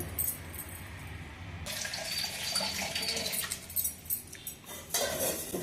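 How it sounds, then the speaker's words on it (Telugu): Water drains from soaked rice tipped into a perforated colander, a faint trickle and patter with light clinks of a metal vessel, rising in bursts partway through. "రంధ్రాల గిన్నెలో ఉడబోస్తాను బియ్యం నీళ్ళన్నీ కారిపోతాయి"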